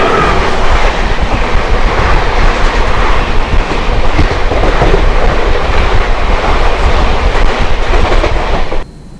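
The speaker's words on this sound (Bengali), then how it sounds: "লাল রঙের LHB কোচের ট্রেন ছুটে চলেছে একদম লাইনের ওপর দিয়ে ধার ধার গতিতে" A red LHB-coach express train, the Haldibari–Kolkata tri-weekly Intercity Express, runs fast along the rails, giving a loud continuous roar with rhythmic clickety-clack of wheels close by, fading off right at the end.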